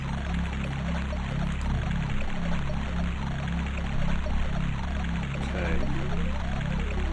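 Water is poured into a cauldron in the 1993 DOS adventure game Ween: The Prophecy, making a steady, continuous splashing pour over a constant low game-music drone.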